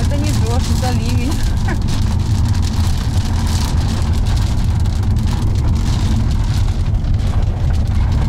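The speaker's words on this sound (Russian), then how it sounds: "Это не дождь, это ливень." A heavy downpour hisses in a steady, loud roar from start to finish, with traffic rumbling beneath it and voices talking under the rain.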